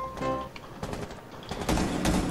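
Gunfire in Rainbow Six Siege, several sharp shots and short bursts spread across a couple of seconds, with a tonal game sound at the start.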